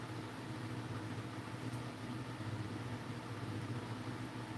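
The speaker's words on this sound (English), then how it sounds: "we have some industrial fans down here trying to just dry everything out." Steady, broadband whooshing of large industrial fans blowing continuously to dry out a room, with a low constant hum underneath and no voices.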